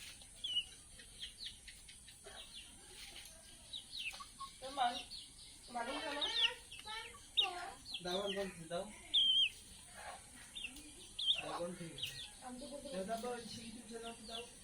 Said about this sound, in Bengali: এই যে দেখো এই মুরগিগুলোকে দাও বাবা, এই বাচ্চাগুলোকে দাও